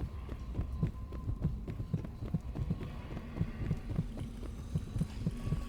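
A rune in the video game Dishonored gives off a low, steady throbbing pulse, like a muffled heartbeat repeating at a regular rhythm over a faint hum, fairly quiet, with no talk.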